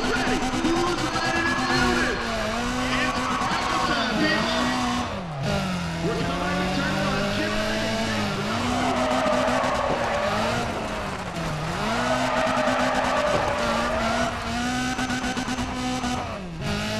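In Need for Speed ProStreet, a somewhat banged-up race car roars through repeated revving engine sweeps while its tires squeal and skid through corners, loud and continuous, with someone talking over it at times.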